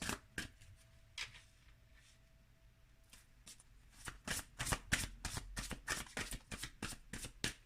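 Tarot cards being shuffled close up: a few soft riffles, a quiet pause, then a rapid run of crisp flicking card snaps.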